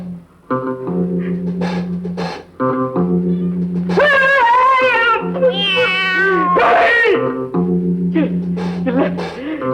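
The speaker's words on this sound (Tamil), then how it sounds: "இல்ல இல்ல, பூனை, நம்ம விட்டு பூனை" A house cat meows repeatedly in drawn-out, wavering cries, loud and close, over a sustained droning tone with voices speaking between the calls.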